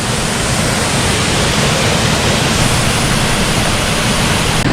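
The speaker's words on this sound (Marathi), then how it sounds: "खूप मस्त धबधबा आहे, पण इथे तुम्ही आलात तर इथे जाऊ नका." A powerful waterfall at Mahuli Fort roars as a loud, constant wash of broadband noise, close and unbroken, with no voices.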